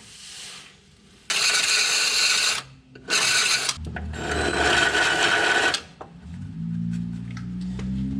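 Harsh metallic rasping in several bursts of a few seconds each, close and loud, a tool deburring a freshly drilled hole in a Cub Cadet RZT 50 mower's metal frame, followed by a lower hum.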